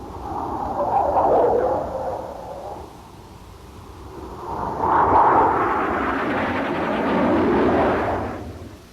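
A Soviet training aircraft flies past with a broad engine roar that swells, eases, then builds again, loud and sustained.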